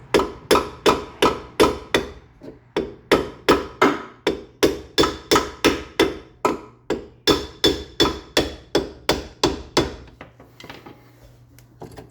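A flathead screwdriver is struck with a hammer against a seized rear brake adjuster on a Triumph Spitfire, giving a long, steady run of sharp metallic blows close to the microphone. The blows slow and fade near the end.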